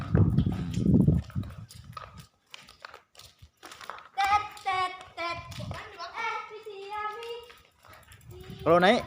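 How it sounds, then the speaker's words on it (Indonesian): An Australian racehorse is led out of its stable, hooves clip-clopping in irregular steps close by, mixed with handling noises while people talk, including a child. "Kuda segera kita keluarkan dari kandangnya."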